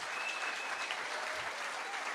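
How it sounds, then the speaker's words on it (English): Audience applause at a town hall in Elko, Nevada, a steady sustained round of clapping from a room full of people, fairly distant and even throughout. "a big round of applause here for VP Biden."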